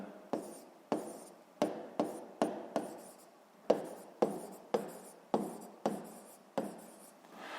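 Marker or chalk writing on a board during a sixth-grade maths lesson: a series of about a dozen sharp, scratchy strokes in an uneven rhythm, close and distinct, with brief quiet gaps and no talking.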